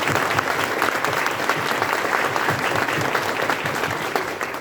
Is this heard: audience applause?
yes